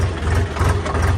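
A low, steady tractor engine rumble runs close by for a brief moment, deep and continuous like a heavy vehicle idling.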